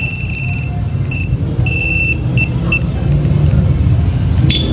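A shrill electronic motorcycle anti-theft alarm on a Suzuki Raider FI beeps in short repeated bursts, then stops, over a low idling engine rumble close by.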